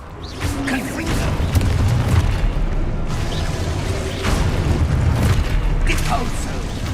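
Confringo blasting spell explosions in the Hogwarts Legacy video game: dense, loud booming blasts and rumbling bursts that overlap continuously, with a voice shouting spell names.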